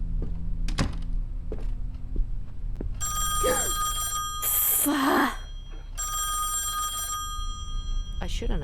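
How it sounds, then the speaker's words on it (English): A telephone rings in the horror video game Song of Horror, two bursts of bright electronic trilling tone with a pause between, heard under someone talking and faint game ambience. "I shouldn't answer the phone. Should I? I would rather not. Or does it keep ringing?"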